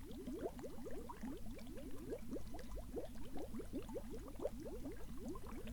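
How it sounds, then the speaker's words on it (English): Blood being shaken and mixed in a vessel makes a faint, steady liquid sloshing, rapid repeated swishes and gurgles with a rhythmic, bubbling quality that runs throughout. "Then thou must proceed by shaking up the blood so that congealed elements mix with the plasma"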